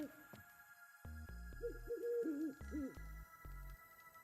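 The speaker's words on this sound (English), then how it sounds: "Zoltan, venture to say a mage would have trouble turning that owl into a parrot." An owl hoots in The Witcher 3 video game, a series of low, tonal wavering hoots in quick succession over a steady droning background, fairly close and with no talk.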